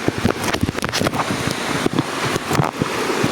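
Waterfall on Mt. Romelo heard from a trail: a rushing wash of falling water, mixed with heavy, gusting wind buffeting the microphone in irregular bursts.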